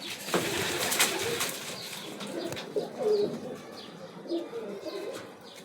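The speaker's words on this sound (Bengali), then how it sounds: "এই যে লাক্ষা কবুতর," Lakkha pigeons coo in a rooftop pigeon house, soft repeated low throaty calls rising and falling over several seconds, with faint chirps and light rustling nearby and no talking.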